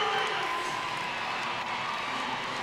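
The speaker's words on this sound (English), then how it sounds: "this crowd erupts again for Haley Bryant" A gymnastics arena crowd at a West Virginia at LSU meet erupts in sustained cheering and whooping after a near-perfect bar routine, a loud, dense roar that holds steady throughout without any break.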